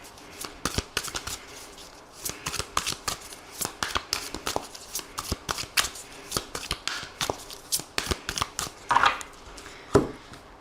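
Tarot cards being shuffled by hand, rapid riffling bursts and crisp flicks in an uneven rhythm, close and clear with no talking.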